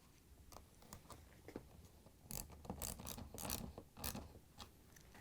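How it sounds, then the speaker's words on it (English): A 5/16 socket ratchet tightens a clamp on a GE pump connector, giving a series of quiet, close ratcheting clicks in short irregular bursts, denser toward the middle. "we can tighten down this clamp with our 5/16 socket again."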